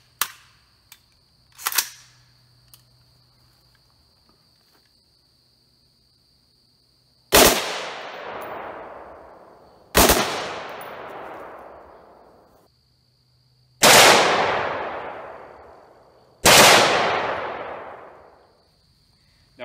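AR-15 rifle firing 5.56 Winchester green tip rounds into a steel exterior door: four loud, sharp shots spaced a few seconds apart, each with a long decaying ring, after two fainter earlier pops.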